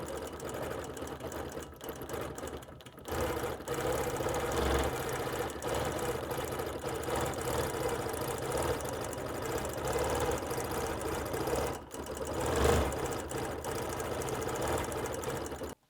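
Sewing machine quilting appliqué with monofilament thread, a steady continuous mechanical whir with rapid needle chatter running throughout, close and fairly loud with no talk.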